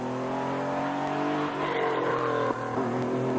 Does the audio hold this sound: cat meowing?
no